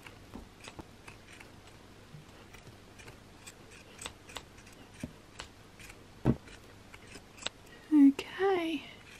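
Scissors snip through fabric while sleeves are attached and finished on a McCall's M7537 sewing project, giving sparse soft clicks and cuts and a few louder snips near the end over quiet background.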